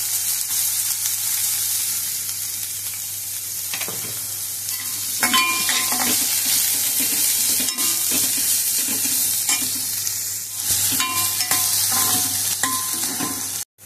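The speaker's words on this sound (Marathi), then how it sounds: "एक चॉप करून म्हणजे कट करून कांदा घेतलेला आहे, तो पण आता यात टाकणार आहोत। त्याला छान परतू द्यायचं।" Chopped onion sautéing in a pan for a crispy sandwich filling, a steady broad sizzle with intermittent stirring scrapes, close and moderately loud, no talk.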